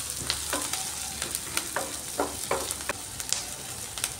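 Onion, garlic and ginger frying with asafoetida in a pan, a constant nearby sizzle broken by repeated spatula scrapes and stirs, with no voices.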